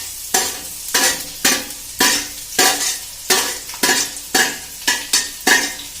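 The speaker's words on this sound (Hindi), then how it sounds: "ये हमारा तेल गरम है, इसी में हम ये बारीक प्याज डालेंगे।" Finely chopped onion frying in hot oil with mustard seeds, a steady sizzle broken by regular rhythmic scrapes of a spoon stirring the pan, close and loud with no talk.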